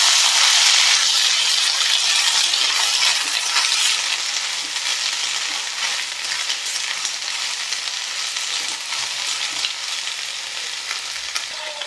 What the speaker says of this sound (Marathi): परतून घ्यायचं आपल्याला।